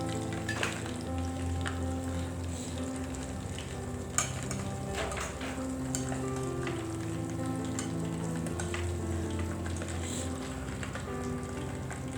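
Dabo chicken pieces frying in a pan, giving a continuous dense sizzle and crackle at close range that holds steady for several seconds with a few sharper pops.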